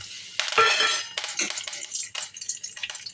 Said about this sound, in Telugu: కరివేపాకు వేసుకొని వేయించుకుందాం.